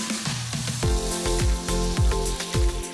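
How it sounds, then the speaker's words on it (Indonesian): Sliced, salted tilapia deep-frying in hot oil, a steady close sizzle and hiss with popping crackles, alongside a repeating melodic tone and bursts of low thumps. "Goreng ikan nilanya dengan metode deep fried agar lebih renyah dan matangnya sempurna"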